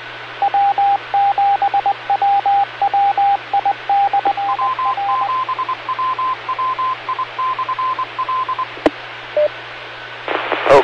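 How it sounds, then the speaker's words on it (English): Morse code tones sent over amateur radio, a clear steady beep keyed in quick dots and dashes at one pitch, then shifting to a slightly higher pitch for a second run, over a faint hiss. "I guess the Morse code lesson's over"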